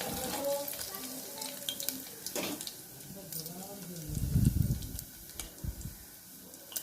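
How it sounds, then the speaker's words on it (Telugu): Tempering seeds crackle and sizzle as they fry in hot oil for a Telugu raw banana fry, a steady close frying hiss with a louder stirring burst partway through and a voice talking over it. "తాలింపు గింజలు ఆయిల్ వేడైనాక వేసుకుందాం. ఆయిల్ వేడైందండి. ఇప్పుడు ఇవన్నీ వేసేసుకుందాం."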